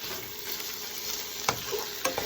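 Onions, pepper and imitation crab meat sauté in a pan, a faint steady sizzle broken by a couple of brief scraping stirs near the end.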